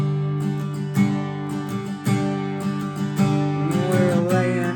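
Acoustic guitar strumming the chorus of Zach Bryan's "Starved", steady rhythmic chords played close and clear with no voice.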